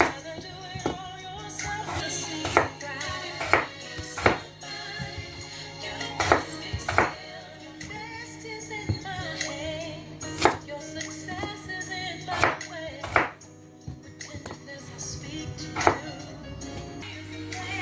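Knife cutting potatoes into wedges on a board, a steady series of sharp chops and taps, some close and crisp, spaced irregularly over a low kitchen hum.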